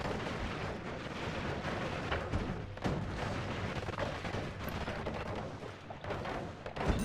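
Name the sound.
mortar spell explosions in the video game Noita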